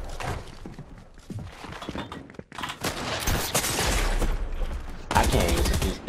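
Fortnite gunfire rattles in rapid bursts from an in-game gun, sharp and dense shots crackling over a noisy game backdrop, with a brief lull before heavier firing resumes.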